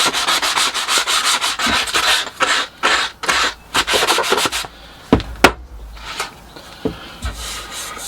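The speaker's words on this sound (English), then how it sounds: "So then I use the bobbin sander just to get the rough profile on the neck." A bobbin sander shapes the rough profile of a wooden guitar neck, a series of close, gritty rasping bursts as the wood is pressed on and pulled off, growing sparser and more intermittent toward the end.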